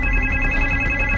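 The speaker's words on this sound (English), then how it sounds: "The phone's ringing." A telephone rings in a short, steady electronic tone with bright sustained pitches, heard close and alone with no voices.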